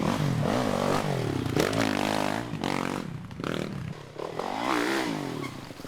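An FMF Yamaha enduro racing motorcycle revs hard under throttle at a national enduro in Westpoint, Tennessee, its rising and falling engine whine loud and close, broken by brief dips as the rider shifts and accelerates.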